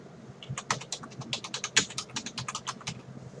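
Fast typing on a computer keyboard, a quick close run of crisp key clicks with a few brief pauses.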